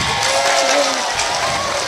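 Applause and crowd cheering from an audience at an Islamic religious lecture, a steady wash of clapping throughout with some voices mixed in.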